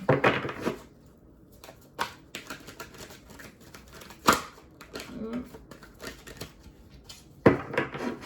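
Tarot cards shuffled by hand indoors in short riffling bursts, crisp papery flutters separated by quieter pauses, close to the microphone, with someone speaking between them.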